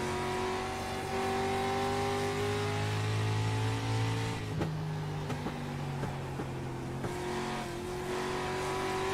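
Street stock race car engines in a racing game drone loudly and steadily, several cars revving and shifting pitch together, with brief rattles and tire noise partway through.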